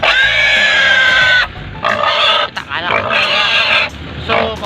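A pig in rural Libona, Bukidnon, grunts and squeals loudly at close range in several bursts, with short pauses between the harsh, nasal cries.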